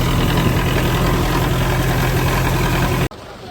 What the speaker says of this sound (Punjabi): ਉਹ ਚੱਲ ਰਿਹਾ ਟਰੈਕਟਰ ਆਪਣਾ